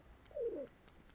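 A single soft pigeon coo rolls out briefly, close by, over faint background hiss with a few distant clicks.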